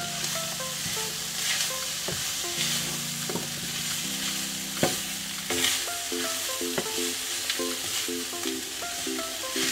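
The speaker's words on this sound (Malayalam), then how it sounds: "ഈ മസാലകളൊക്കെ ചിക്കൻ കഷ്ണങ്ങളിലേക്ക് നന്നായിട്ടൊന്ന് ചേർത്ത് ഇളക്കി കൊടുക്കാം" Masala being stirred into chicken pieces in a pan over medium flame for Kannur-style chicken upperi, with a constant close sizzle and frequent spoon scrapes, while music plays softly underneath.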